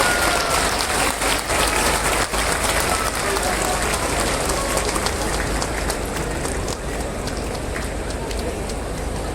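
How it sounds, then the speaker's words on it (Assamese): Sustained applause from a ceremony audience welcoming the chief minister at an appointment event, a thick, even wash of clapping that carries on for several seconds with voices faintly mixed in. "তেখেতক হাত চাপৰিৰে আদৰণি জনাবলৈ মই সকলোকে অনুৰোধ জনাইছোঁ"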